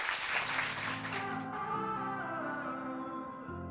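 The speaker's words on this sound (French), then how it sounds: "Merci à vous, on peut les applaudir" Applause at a lingerie trade show gathering, a steady wash of clapping that fades after about a second and a half, giving way to sustained music or tonal sound carrying on to the end.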